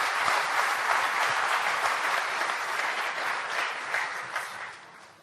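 Sustained audience applause, dense steady clapping from a large crowd at a Rally for Rivers event, fairly distant and even, tapering off at the end.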